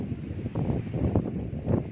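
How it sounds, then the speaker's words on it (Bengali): Wind by the water, with waves, buffets the microphone in a steady low rumble, gusting slightly stronger toward the end, with no clear voices. "কি হাওয়া, কি হাওয়া, কি হাওয়া, এত সুন্দর লাগছে।"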